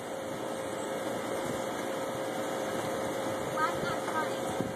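A 2005 GMC Canyon pickup's engine idles roughly, a steady uneven hum with a faint whine running underneath, continuous and fairly close for a few seconds.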